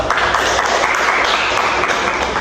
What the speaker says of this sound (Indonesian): Pikir dulu, tepuk tangan dulu